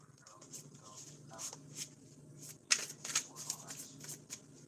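A deck of playing cards being shuffled by hand, close and quiet, with soft riffling bursts and a few sharper card snaps in the middle over faint room hum.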